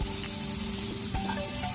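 Onion, grated coconut and garlic sauté in a pan for a fish curry masala, giving a steady, quiet hiss of frying with a faint scrape partway through and no talking.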